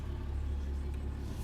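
A truck cruises along a ranch road with a steady low engine rumble and road hum from inside the cab, continuous and even throughout.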